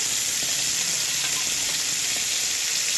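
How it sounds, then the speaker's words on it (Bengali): Dried red chillies frying in oil in a wok give a steady, close, bright sizzle that holds evenly throughout, with no one speaking. "কড়াইয়ে আমি তেল দিয়েছি শুকনো লঙ্কা দিয়েছি"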